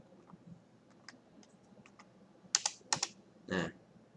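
A Linux command typed on a computer keyboard: sparse soft keystrokes, then a few louder clacks and a final heavier key press, close and quiet with no voices.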